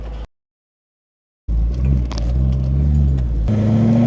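BMW E92 M3 engine, a car with a blown-up engine under repair, cranks and catches after a short silence, then settles into a steady, close idle rumble.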